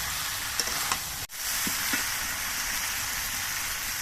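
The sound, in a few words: vegetables sautéing with ginger paste for shukto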